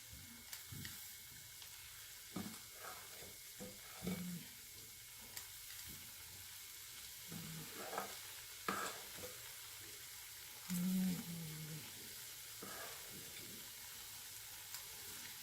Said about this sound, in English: It's not going deep into the oil. That's proof that it's hot enough.